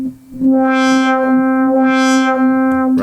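A steady tone from a 1971 Minimoog Model D synthesizer whose filter sweeps open and closed twice, brightening and darkening in a slow wah-like rhythm.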